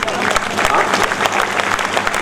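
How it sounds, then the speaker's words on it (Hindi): Dense applause from a crowd at a Hindi kavi sammelan poetry recital, a steady loud wash of clapping for about two seconds. "ताली बजाने वाले आगे भी तो सुन लो"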